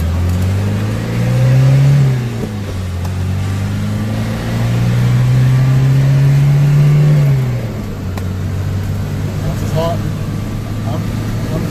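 A 1972 Mercedes-Benz 220d W115 fitted with a W123 240d diesel engine accelerates through the gears, its engine note rising, dropping at shifts and rising again, with people talking inside the car.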